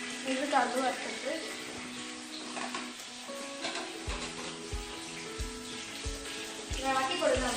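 Mustard seeds crackle and sizzle in hot oil with dried red chillies, crushed garlic and curry leaves for a gooseberry pickle, a steady close frying hiss with soft pops and some clinks, under a speaking voice.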